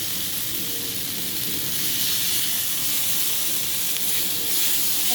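Spice paste for a meat-style shankar (stingray) fish curry fries in a pan with a continuous, loud, close hiss and sizzle, and no talking.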